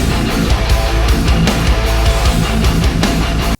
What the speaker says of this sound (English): That's the sound of reamped quads that were supposed to make this mix sound huge.